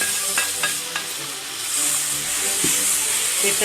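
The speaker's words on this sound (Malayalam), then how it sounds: "വഴന്ന മസാലയിലേക്ക് നമ്മൾ വേവിച്ച് വെച്ചിരിക്കുന്ന ബീഫ് ഇടാം" Cooked beef is tossed into sautéed masala for a Kerala-style beef fry, a loud, close, continuous sizzle with occasional stirring scrapes and no talking.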